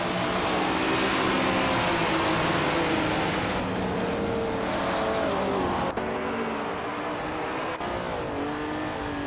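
A vintage 1967 Ferrari 330 P4 and a pack of race cars launch off the starting line in a racing game, loud sustained engine roar with rising revs and gear-change drops, steady and close throughout.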